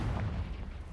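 A Confringo blasting spell detonates in Hogwarts Legacy as a single deep, rumbling boom, loud and low-heavy, fading within a second.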